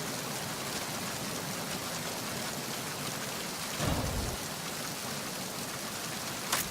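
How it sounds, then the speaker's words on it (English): Steady rain pours in a Metal Gear Solid game scene, a dense even hiss of falling water with a brief low rumble midway and a small burst near the end, no voices. "Just enjoying the rain."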